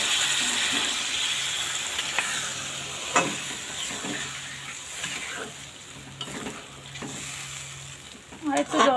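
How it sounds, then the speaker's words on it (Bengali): Water poured into a frying pan of pangas fish curry with spices: a steady sizzle and bubbling hiss with occasional stirring clinks, close and continuous, ending in a brief louder splash. "এবার জল দিয়ে দেবো।"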